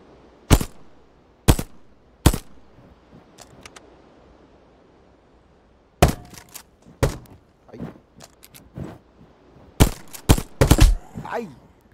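Gunshots ring out in the blocky zombie shooter Zumbi Blocks 2: sharp single cracks spaced apart, then a denser cluster of rapid shots near the end, with faint game noise in between.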